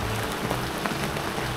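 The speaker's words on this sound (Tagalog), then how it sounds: "Tubig ulan." Rain drums on a car with detailed glass, a dense steady patter of drops close by and unbroken for the short stretch.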